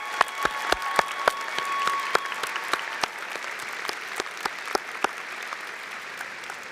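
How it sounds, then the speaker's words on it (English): Graduation ceremony audience applauding at a university commencement, with sharp individual claps standing out over a steady crowd patter, moderately loud and without speech. "Graduates, please join me in a round of applause to thank your loved ones and most loyal supporters."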